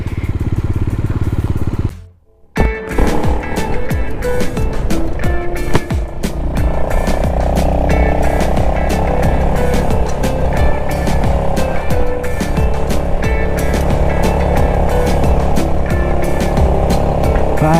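A motorcycle engine runs loud and close throughout a mountain ride from Chumthang to Gurudongmar, cutting out briefly near the start, then returning as a steady droning hum with rough mechanical rattle.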